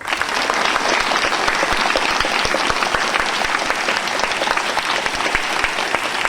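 An audience at a school karate medal celebration claps loudly and steadily, a dense burst of applause from a crowd with no voices above it.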